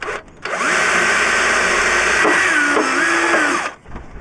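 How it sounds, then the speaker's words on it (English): A power drill whirs loudly for about three seconds, its motor pitch rising and dipping as it bites into material while fitting a grey water tank on a Transit van, then winds down. "The drill only just fits in here."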